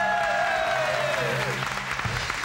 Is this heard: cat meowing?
no